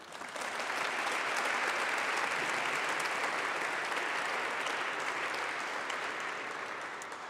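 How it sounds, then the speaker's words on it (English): Audience clapping for Dr. Robert George at a public conversation, a sustained even wave of applause swelling in quickly and holding steady for several seconds before easing slightly near the end. "Please give a big round of applause to Dr."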